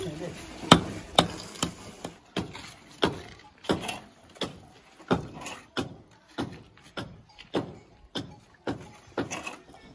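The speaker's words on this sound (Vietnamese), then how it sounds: "lấy cái búa về mày đập vào để nó sẽ ra nhanh hơn" Hammer striking a chisel to chip off material during work on a house under construction: a steady series of about fifteen sharp, close knocks at an even pace, some louder than others.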